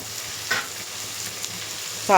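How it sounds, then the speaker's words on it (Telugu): Ridge gourd pieces fry in a pan with turmeric and salt for an egg curry, a low steady sizzle broken by a couple of brief stirring scrapes, the last one louder, with no talking. "బీరకాయ ముక్కలు వేసేసుకోవచ్చు. కొంచెం ఫ్రై అవ్వాలి."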